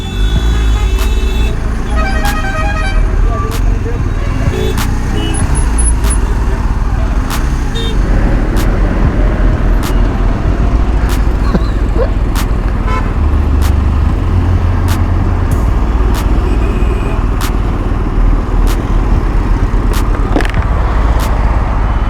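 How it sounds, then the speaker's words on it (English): Road traffic in a congested stretch, heard from a BMW 1250 GS motorcycle: a steady loud engine drone with heavy wind rumble throughout and sharp ticks and clicks from the surroundings, with no talking. "So you can make out the traffic build up when you begin late"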